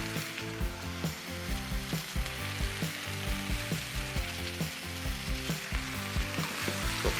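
Beef and broccoli stir fry with honey garlic sizzling steadily in a hot pan as mushrooms go in, a continuous close crackle with light rhythmic stirring clinks throughout.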